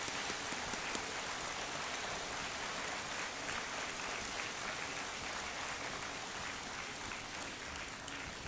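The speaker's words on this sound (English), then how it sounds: "Let's give Hui Hua a warm round of applause too" Audience applause at a university commencement ceremony for a school of information systems, a continuous dense patter of many hands clapping, steady and moderately distant throughout.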